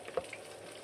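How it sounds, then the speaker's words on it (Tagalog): Fish frying in a hot pan gives a steady, close sizzling hiss, with one brief sharper crackle near the start. "Luto na yung pritong isda"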